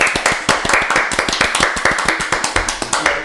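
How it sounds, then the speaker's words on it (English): Hands clap in a quick, even run of sharp claps on a podcast set, about six per second and close to the mic, with no voices over them. "So we did our special guest a disservice with the slow claps."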